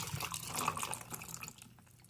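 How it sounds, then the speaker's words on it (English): Water poured from close by into a cup of drink mix with ice, a faint, bubbling splash that trickles and tapers off toward the end. "So I'm gonna pour the water in first."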